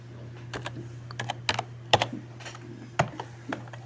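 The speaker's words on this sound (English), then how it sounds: "So I'm going to type clear." Keystrokes on a computer keyboard as a command is typed into a Linux terminal: a close, irregular run of crisp clicks over a steady low hum, with no talking.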